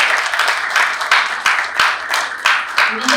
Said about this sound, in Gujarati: જોરદાર તાળીઓથી આપણે સ્વાગત કરીએ.